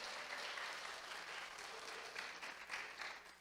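A church congregation claps together in steady, dense applause that carries evenly and fairly loudly through the short stretch, with no voices standing out.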